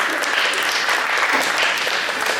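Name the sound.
audience applause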